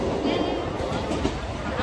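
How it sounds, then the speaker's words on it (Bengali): A crowded train pulls into a station, its dense rumble and rattle blending with loud crowd babble and nearby voices in a steady, busy wash of noise. "ট্রেনটা ঢুকে গেছে, ট্রেনে প্রচন্ড ভিড়।"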